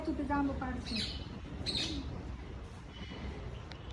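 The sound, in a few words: parrot calling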